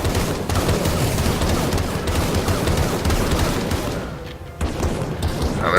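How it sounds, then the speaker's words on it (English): Rapid-fire area-of-effect ultimate attack from the Outlaw class in the video game Skyforge, a dense, continuous barrage of booming shots and blasts that stays loud throughout with a brief dip near the end. "the ultimate for the Outlaw is like a rapid fire area of effect around the"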